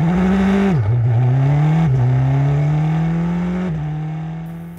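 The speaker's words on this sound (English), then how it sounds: "the lights extinguish, my left foot leaps from the clutch, and I'm off" A Ferrari race car launches off the start line, its engine roaring loud and close with a strained rising pitch, briefly dipping at each of two quick gear shifts before climbing again as it accelerates away.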